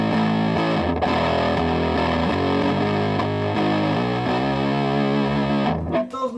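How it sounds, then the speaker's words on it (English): Electric guitar played through an overdrive pedal, gritty and fuzz-like, sustaining a dense, loud run of chords and notes that cuts off near the end. "So this sounds like more like a fuzz than distortion."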